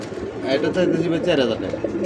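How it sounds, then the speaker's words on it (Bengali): A pair of Indonesian racer pigeons coo softly and steadily for about two seconds, close by, with a voice talking over them. "একদমই ইন্দোনেশিয়ান একটা জোড়া রেসার কবুতর"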